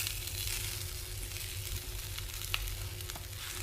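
Boiled peas and potato fry in a pan of oil, giving a steady, even sizzle throughout with a faint crackle near the middle and no talking.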